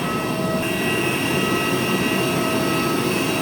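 A steady, broad roar of aircraft engines fills the air while passengers board a Saudi Airlines plane bound for Sharjah and Dubai, constant and unbroken with a faint high whine on top.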